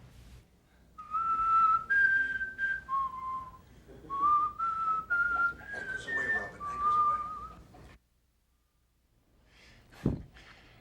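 A man whistles a short, wandering tune of clear sustained notes, close and fairly quiet, in a television news studio farewell; after a pause a brief low thump follows.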